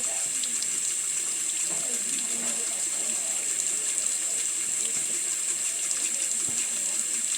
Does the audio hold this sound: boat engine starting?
no